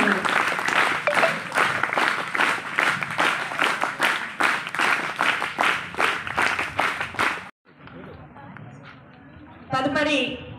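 A crowd at a school awards event in Ibrahimpatnam claps in rhythmic bursts to congratulate a teacher, loud and near. A short pause follows, then quieter talk and a few scattered claps.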